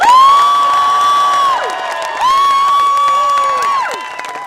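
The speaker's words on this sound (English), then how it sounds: "Let's have a massive cheer." Crowd at an outdoor anti-shark-cull protest rally cheering loudly, with sustained whoops and shouts rising in two long swells, some high voices standing out over the mass of noise.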